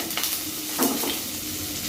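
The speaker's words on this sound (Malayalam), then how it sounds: "ഞാൻ ഇതിനകത്ത് ജസ്റ്റ് കടുക് പൊട്ടിച്ചിട്ട് ഈ സവാളയാണ് ഇടുന്നത്" Sliced onions dropped into a pan of hot oil where mustard seeds were just popped, giving a dense continuous sizzle with occasional stirring scrapes, close and steady with no talk.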